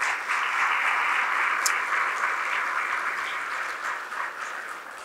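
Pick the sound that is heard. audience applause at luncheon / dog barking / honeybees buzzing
audience applause at luncheon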